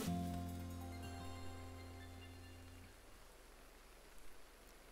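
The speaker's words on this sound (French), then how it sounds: "Ah, il pleut." Steady, quiet rain hiss in the Pokémon Legends: Arceus video game, a soft continuous wash that carries on alone as the game's music fades out in the first few seconds.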